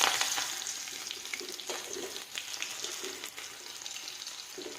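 Tomatoes and onion fry in a pan with a steady, close hiss and sizzle, broken by small crackles and occasional stirring clatters, with no talking.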